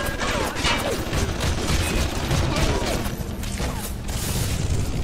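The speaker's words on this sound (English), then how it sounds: "Oh, turret! Turret!" A turret in BioShock fires a dense, continuous burst of automatic gunfire, loud and close, with crashing impacts mixed in and no clear speech over it.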